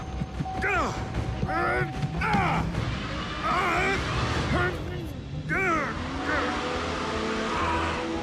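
Cartoon car driving at night, its engine running and tires skidding amid busy animated sound effects, with character voices talking over much of it.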